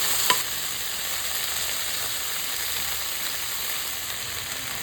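Coriander seeds frying in a pan for a mutton curry masala, giving a steady, even sizzle close up that lasts the whole stretch, with a faint tap of a spoon near the start and no talk.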